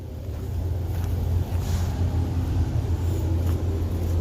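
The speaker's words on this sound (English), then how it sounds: "roll that truck forward." A truck idles and creeps slowly forward, its low engine rumble steady and close with no voices over it.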